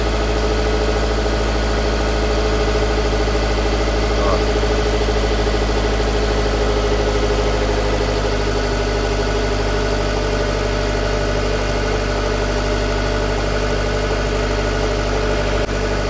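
A 2.4-litre Jeep Cherokee engine idles on LPG at around 1000 rpm, a steady low drone with a constant mechanical hum, heard close and unbroken throughout with no talk.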